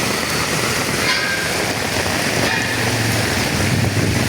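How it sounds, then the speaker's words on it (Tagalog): Steady, dense broadband roar of heavy rain pouring down continuously, loud and close, with no voices. "dahil sa lakas ng ulan"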